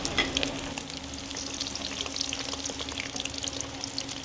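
Beef tripe fries with garlic in a hot pan at a roadside eatery, a steady loud sizzle with crackling pops and occasional stirring, heard alone without any talk.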